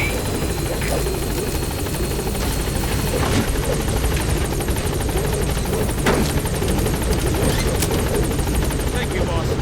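A helicopter in Metal Gear Solid V: The Phantom Pain drones with a steady, loud rotor roar, lifting off amid scattered game effects.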